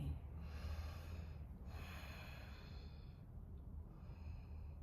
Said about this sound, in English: a couple of variations of Nadishodhana, alternate nostril breathing